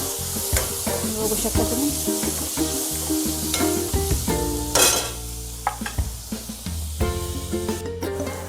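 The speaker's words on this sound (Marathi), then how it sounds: "आता छान टमाट्याला पण आपल्याला नरम होऊ द्यायचं आहे, फ्राय होऊ द्यायचं आहे तेलामध्येच." Tomatoes softening and frying in oil in a pan for masala pav, a close sizzle broken by repeated stirring and scraping, with a brief spoken phrase partway through.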